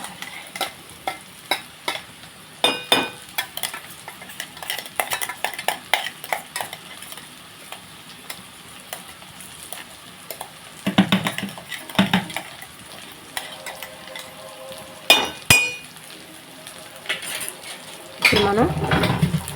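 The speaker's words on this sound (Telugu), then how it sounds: "కారం వేసిన తర్వాత మనం కొద్దిసేపు ఫ్రై చేసుకుందాం." Coconut chilli powder stir-frying in a pan for an ivy gourd fry, with sizzling under repeated scraping and clinking of a utensil against the metal, plus a few louder bursts of stirring.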